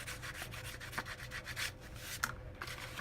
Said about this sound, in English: bone folder and just go in and burnish that down real good